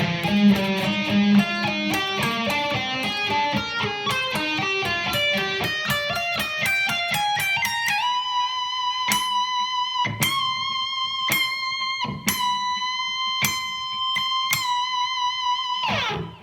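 An electric guitar plays a fast run of notes, then bent notes ring out with sharp repeated attacks, clean and close with no talking.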